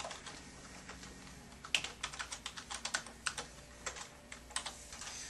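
Password typed on a computer keyboard at a thin-client login prompt, a quick run of light, crisp key clicks in an irregular rhythm, close and fairly quiet, with no talking.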